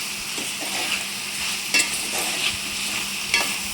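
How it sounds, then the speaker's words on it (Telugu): Amaranth leaf and tomato curry bubbles in a pan under a low sizzle, while a spoon stirs and scrapes the bottom with a few sharper knocks, close and without talk. "ఇంకో ఫైవ్ మినిట్స్ అనేది కుక్ చేసుకోవాలి బాగా కలిపెట్టుకోవాలి ఎందుకంటే మనకి అది అడగంటకుండా బాగా కలిపెడుతూ ఉండాలి"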